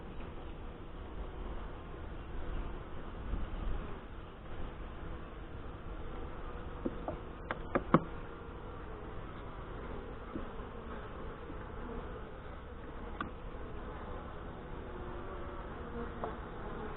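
Saskatraz honey bees buzzing at an open hive in northwest Wisconsin in early June: a dense, continuous hum from many insects close by, steady throughout with a few faint clicks.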